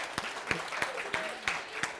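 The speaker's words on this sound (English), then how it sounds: "I think we should give them a round of applause" A small audience at a teacher masterclass gives a brief round of applause, a handful of distinct sharp claps over two seconds, fairly faint, with a voice speaking alongside.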